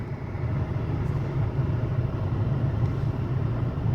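A warmed-up Honda car engine idles steadily with a low, even rumble from inside the car, without speech.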